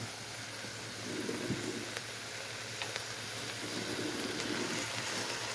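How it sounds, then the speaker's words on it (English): Broccoli and mushrooms sauté in sausage grease with a faint, steady crackling sizzle and a low background hum, with occasional soft ticks and pops. "we're now going to add our broccoli and our mushrooms to. This will give them a little bit of flavor, as well as kind of crisp them up and saute them"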